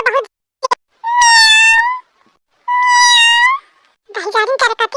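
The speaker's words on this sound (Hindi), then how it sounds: "बिल्ली आ गई" A cat meows twice in long, drawn-out, strongly pitched cries, close and loud, with short bursts of talk before and after.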